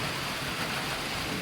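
Rain pours steadily into a drum in a village, a dense, even hiss of falling water close by with no pauses and no voices.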